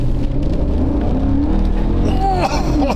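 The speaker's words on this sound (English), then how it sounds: "Car's coming." A car drives past on a road, a steady engine and tyre rumble that swells slightly near the end, with faint voices in the background.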